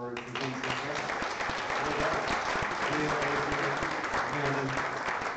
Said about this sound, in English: a round of applause to the organizers of Ignite Liverpool for being so great